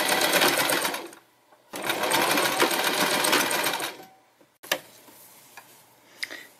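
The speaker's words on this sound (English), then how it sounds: "Going to sew with a 1/4 inch seam, and you want to lock your stitch at the beginning and at the end" A sewing machine stitches a felt eyeglass case with a 1/4 inch seam, running in two long, loud, steady bursts, then stopping for a few clicks and ticks as the stitch is locked.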